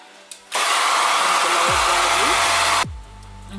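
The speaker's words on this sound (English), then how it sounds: "my handy dandy blow dryer" A handheld blow dryer runs loud and steady for about two seconds, drying a freshly washed closure wig's lace, starting abruptly and cutting off with a falling whir as it powers down.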